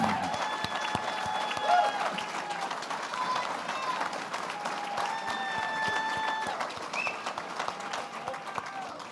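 A dinner audience at a Lincoln Day Dinner applauds steadily for several seconds in a large room, with many hands clapping at moderate loudness. Faint tonal sounds and some crowd murmur sit under the clapping.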